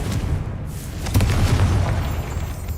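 A Confringo blast spell from the Hogwarts Legacy video game goes off as a loud, low booming explosion that rumbles on for over a second.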